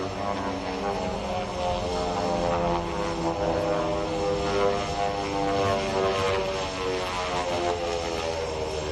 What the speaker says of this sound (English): This particular model aircraft came off the assembly line at the Beechcraft Corporation in Wichita, Kansas in 1943, the wartime years.